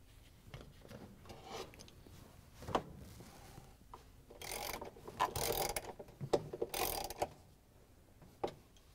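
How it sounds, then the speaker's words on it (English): A ratchet with a 3/8-inch socket and extension drives bolts into a GE washing machine cover, giving close, quiet bursts of rapid clicking with brief pauses and a few knocks between strokes. "use the 3/8" socket with the ratchet and extension to put the bolts in"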